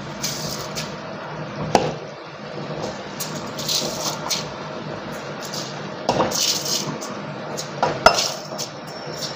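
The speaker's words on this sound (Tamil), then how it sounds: "இப்போ அரிசி போட்டுடலாம்." Soaked rice going into a boiling pot for chicken biryani, with clanks and scrapes of a metal pot and utensil, a few sharp clinks standing out over a continuous bubbling hiss.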